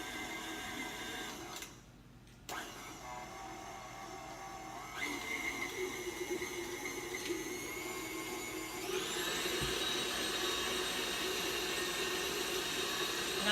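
An electric mixer whirs steadily as it spins through thick cookie dough, a sustained motor drone that briefly cuts out and then restarts. Its pitch shifts higher near the end as the tool is lifted.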